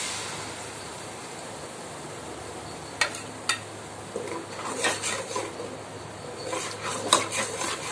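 Ground shallots, mint, coriander and green chillies are sautéed in oil for seeraga samba mutton biryani, a soft steady sizzle broken by repeated ladle knocks and metal scrapes on the vessel that grow busier toward the end.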